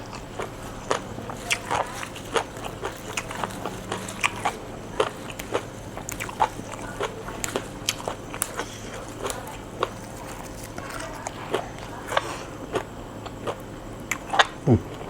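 Spicy tilapia fish laab is eaten in big mouthfuls, with close, crisp biting and chewing crunches coming in an irregular, steady run against a quiet background.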